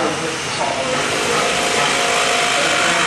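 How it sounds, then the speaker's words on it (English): A spindle gouge hollows out a wooden bowl on a wood lathe, giving a steady, loud, continuous scraping hiss that runs without a break from start to finish. "So I'm going to use my spindle gouge for hollowing."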